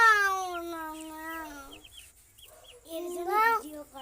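Chickens on a poultry farm, several close clucks and drawn-out squawking calls, loud and clear with a brief quiet gap in the middle.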